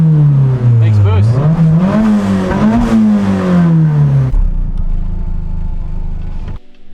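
A turbocharged Nissan S14 with an SR engine and factory ball-bearing turbo accelerates hard, its engine note climbing steadily and loud for about four seconds before dropping to a lower, steadier drone.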